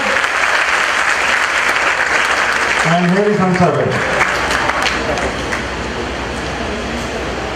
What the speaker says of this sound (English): Give a big applause to Gigi for her 75th birthday